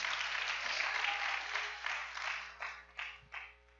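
A church congregation breaks into applause, a dense steady burst of clapping that thins out toward the end into a few scattered claps.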